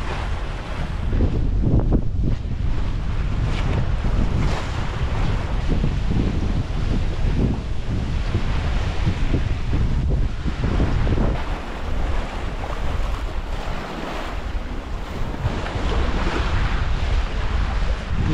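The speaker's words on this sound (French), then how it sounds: "Et d'où ces vagues là. Le fleuve semble agité." Steady wind and rough water on a choppy river, heard from aboard a traditional sailboat pushing against a strong current in about 14 knots of wind; a constant loud roar of gusts and wave wash with no pauses.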